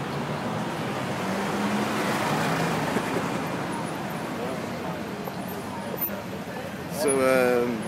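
A Lamborghini drives by amid steady roadway traffic noise, a broad rumble that swells near the end, with people talking over it.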